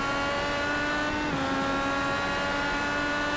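A race car in the iRacing game at Detroit Belle Isle speeding down a straightaway, a loud sustained high-pitched engine whine held at full throttle with a slight pitch dip midway.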